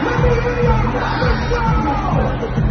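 A packed stadium crowd at a Houston concert yells and roars together in a loud, sustained wall of cheering with scattered whoops.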